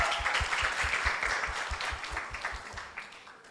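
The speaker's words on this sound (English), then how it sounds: "Give applause, everyone." Audience at a school English debating competition semifinal applauds after scores are announced, brisk steady clapping that gradually thins out toward the end.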